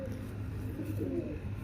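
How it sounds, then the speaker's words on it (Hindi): A domestic pigeon of a ghaghra-type breed cooing close by, a soft low throaty murmur lasting just under two seconds with faint background hum. "तो देखें यह है तीसरे नंबर का कबूतर।"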